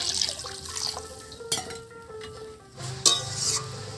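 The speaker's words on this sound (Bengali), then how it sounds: "এবার জল দিয়ে দেবো।" Water is poured into a pan of fried spice masala for a village-style catfish curry, giving a soft liquid splash and trickle with a few sharper clinks, fairly close with no talk.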